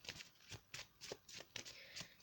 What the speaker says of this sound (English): So I'm going to be shuffling the cards right now.